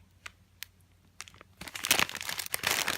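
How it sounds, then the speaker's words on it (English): Crinkle paper rustles and crunches as it is stuffed into a valentine box, starting with a few light isolated crackles before building into dense, close crinkling. "So first we're going to add some crinkle paper."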